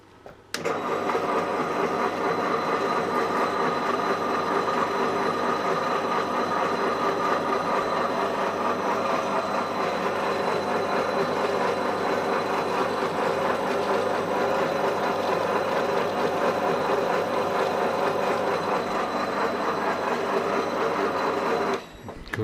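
A bench grinder wheel spins at high speed against the rear brake disc of a Kawasaki ZX14 motorcycle, giving a steady, loud, continuous whirring grind that holds unbroken for about twenty seconds before cutting off.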